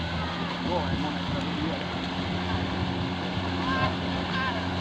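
Engines of two rubber motorboats on a search for a drowning victim hum steadily over lapping water, with faint voices in the background.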